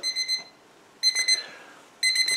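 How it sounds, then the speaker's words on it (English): A VOCOO digital magnetic kitchen timer going off, sounding three bursts of rapid high-pitched electronic beeps about a second apart, loud and close with no talking. "there goes my timer."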